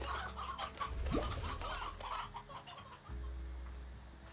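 Hens clucking on a video game farm, a busy flock sounding steadily for several seconds at moderate loudness, with no talk over it.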